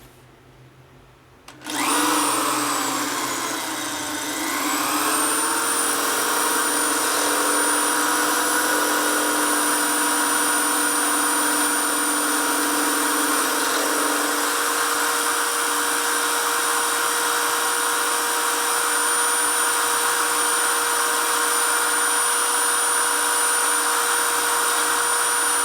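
A drill spins up and then grinds steadily without pause on a 2001 Gilroy Indian motorcycle, a loud, sustained whine with a slight shift in pitch early on.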